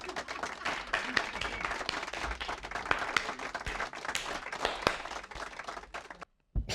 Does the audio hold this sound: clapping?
yes